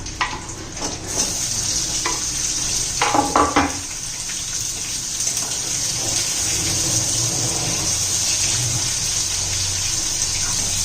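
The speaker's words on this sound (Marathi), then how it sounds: "कांदा परतून घेऊया" Onion sautéing with ginger and garlic in a pan for spicy dry sprouted matki, a steady loud hiss of frying with a few scraping stirs near the start, continuing evenly without speech.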